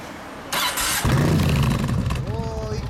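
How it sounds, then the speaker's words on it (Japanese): A 1999 Yamaha XV1600 Road Star, a 1600 cc cruiser fitted with a Kentec muffler, cranks with a short starter whir. It then catches into a loud, deep, lumpy rumble close by, with a voice briefly heard over it. "エンジンを聞かせてもらえますか？"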